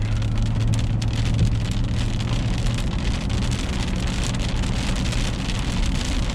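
Steady rain drums on a pickup truck's surface on Highway 30 in Kuwait, close and even, over a low rumbling drive noise throughout.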